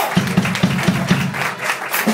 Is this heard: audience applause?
yes